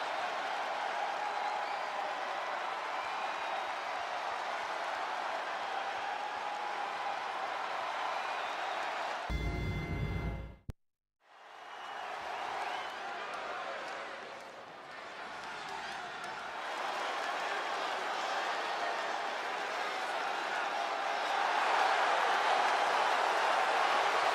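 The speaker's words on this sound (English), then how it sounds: "Capacity crowd here tonight in a stacked card." A capacity arena crowd in the wrestling video game WWE 2K22 keeps up a steady roar of cheering, briefly cut to near silence before the noise returns and swells louder toward the end.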